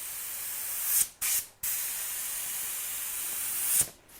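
A cheap airbrush spray gun lets out close, loud bursts of airy hiss: two short sprays, then one long continuous spray, each cut off sharply, with no talking.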